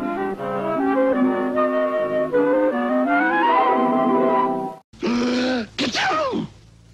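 A sustained tonal vocal buildup ends in a sudden, forceful sneeze after a brief pause, followed by a short sputtering burst, from the NBC peacock broadcast station ID.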